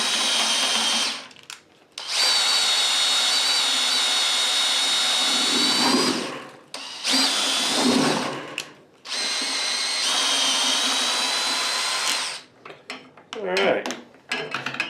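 Power mixer whirring as it stirs six cans of coconut milk for coconut rum, a loud, high electric drone running in long bursts with brief pauses and short stuttering restarts, under occasional speech.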